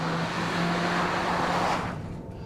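An Audi A3 1.8 engine drones steadily at high revs while driving sporty mountain roads, a loud, continuous hum with a constant tonal note that fades slightly near the end.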